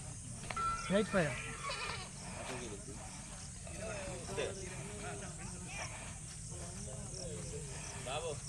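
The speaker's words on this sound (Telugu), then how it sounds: "మా మేక చూడుర్రి మా మేక కూడా వచ్చేసింది" A goat bleats loudly once near the start, wavering cry, with softer bleats later under continuous outdoor noise and chatter of people talking at a village temple fair.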